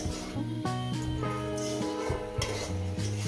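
Ghee going into a hot pan while cooking shukto, with metal utensil clinks and scraping stirs over a soft sizzle, close and fairly quiet.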